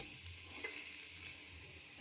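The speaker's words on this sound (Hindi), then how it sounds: "टमाटर डालेंगे, ये पीसे हुए जो हमने दलदरे पीसे हैं" Coarsely ground tomatoes added to hot oil in a frying pan give a faint, steady sizzle with light stirring, and a brief louder splash of frying near the end.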